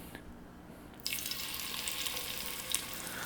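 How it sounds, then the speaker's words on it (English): Chicken pieces laid skin side down in hot oil for an allergy-free braised chicken, crackling into a steady, close sizzle that starts abruptly after a brief quiet moment and holds on with occasional pops. "you hear that sizzle?"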